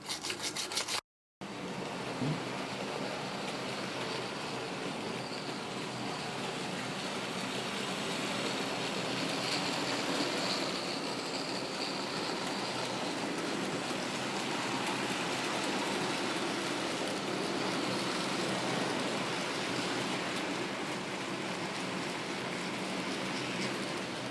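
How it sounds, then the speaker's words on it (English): Lima model locomotive running round a track after servicing, a steady continuous whirring and rumbling hiss from the motor and wheels that holds constant for the whole stretch, close and even, with no talking. "So this is just looking at the Loco going round."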